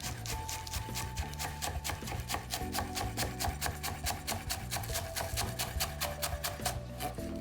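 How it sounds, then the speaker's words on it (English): A knife chopping green onions on a cutting board, quick steady taps in a fast regular rhythm, close and fairly quiet, with no talking. "the last thing I have to do is chop up these green onions"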